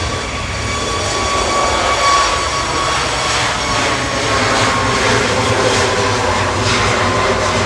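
A Ryanair jet leaves Manchester Airport for Alicante, a steady, close engine roar holding at constant strength throughout with faint whining tones on top and no voices.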